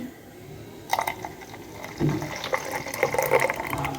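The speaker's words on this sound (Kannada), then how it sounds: "ಇವಾಗ ನೋಡಿ ನಾನು ಮಿಕ್ಸಿ ಜಾರ್ ತೊಳೆದ ನೀರನ್ನೇ ಹಾಕ್ತಾಯಿದ್ದೀನಿ" Rinse water from a mixer jar being poured into a cooking vessel holding ground paste for a lemon peel tambuli, a soft splashing pour that starts partway through and grows louder with clinking toward the end, no talking.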